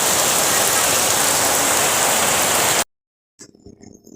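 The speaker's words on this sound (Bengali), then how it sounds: "ও প্রচুর বৃষ্টি হয়েছে" Heavy rain falls in a village, a loud, dense, steady hiss of downpour that cuts off abruptly into silence, followed by faint quieter sounds.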